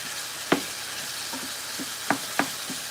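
Ground beef sizzles steadily in a pan for taco night, broken by several sharp scraping knocks of a utensil chopping it apart, with no talking.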